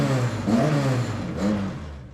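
A cold car engine running rough, with an uneven, surging mid-pitched drone that swells twice, close by and steady for about two seconds with no talking.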